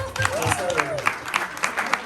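An audience at a meet and greet claps, a short patter of moderate applause with irregular sharp claps under a speaking voice.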